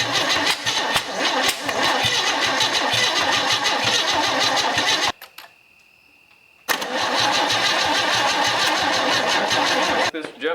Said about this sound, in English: let's see if that makes any difference.